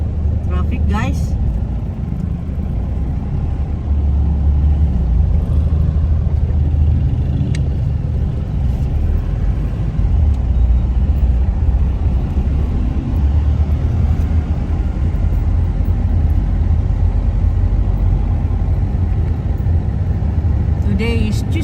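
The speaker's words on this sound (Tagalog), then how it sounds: "Ito ngayon, Tagbilaran, traffic." Street traffic in Tagbilaran after a typhoon, with a constant low rumble of cars and other motor vehicles passing nearby, heard under a person talking throughout.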